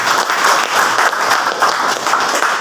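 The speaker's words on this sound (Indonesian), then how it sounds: "Tepuk tangan dulu." Loud, dense audience applause filling a hall during a political speech, continuous clapping with no voices on top.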